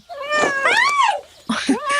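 A cat meows loudly and close by, a long drawn-out wail followed by a shorter second meow.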